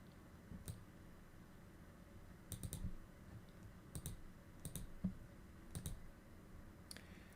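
Computer mouse clicking in tax software, a handful of faint, sharp isolated clicks spaced irregularly over a quiet background, some coming as quick double clicks.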